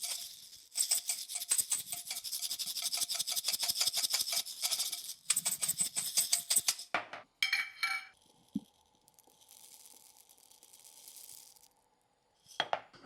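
Black peppercorns being crushed for cacio e pepe in quick, close, crunchy grinding strokes in bursts, with a brief clink and then quieter scraping.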